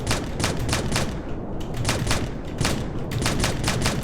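Rapid weapon fire in a video game under development, a steady series of sharp, loud shots in quick bursts, switching between single and automatic fire, with no talking.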